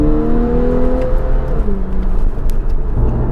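A Porsche 911 of the 991.1 generation revs its naturally aspirated engine, a loud, steady mechanical drone whose pitch climbs and shifts throughout, heard close up with no talking.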